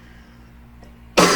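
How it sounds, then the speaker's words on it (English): One sharp, loud cough bursts out close to the microphone at the very end, following a second of quiet room hum. "need to stop coughing, dear God."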